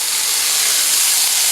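Shrimp going back into a hot pan with green onion and vegetables for a spicy dish, giving a loud, steady, hissing sizzle that runs unbroken throughout with no talking.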